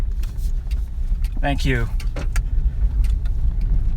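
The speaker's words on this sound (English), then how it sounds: "just try to get around this car here" A car drives past on a road, its tyre and engine noise swelling and fading over a couple of seconds under a constant low rumble, with a person speaking briefly nearby.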